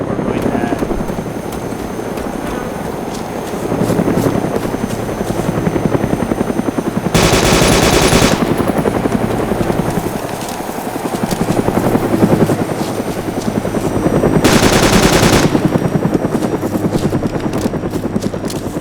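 A helicopter in the video game DayZ thumps loudly and steadily with a rhythmic rotor chop, broken by two harsh bursts of rapid gunfire, with someone talking over it at times.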